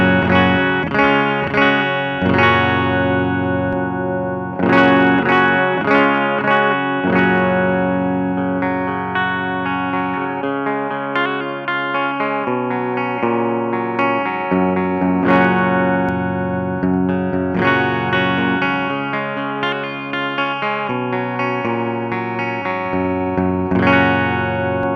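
Clean, dry electric guitar with the phaser pedal bypassed: strummed chords and picked notes ring out with sustain and play continuously, with no talking over them.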